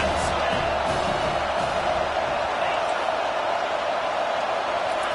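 College football stadium crowd at a Miami vs Alabama game roaring steadily behind the defense on a third down, a dense, sustained wash of cheering with no clear breaks.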